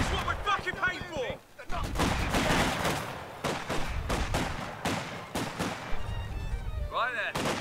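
Royal Artillery guns boom in the video game Company of Heroes 2 during a battle for Hill 400, heavy blasts and rattling fire repeating over several seconds while soldiers shout in the mix.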